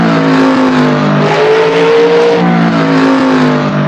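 A 1967 Chevelle SS engine roars loud and close with a steady, deep, rumbling drone, its pitch sliding up and down slightly as the throttle is held and eased, with no voices over it.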